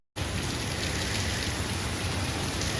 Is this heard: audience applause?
no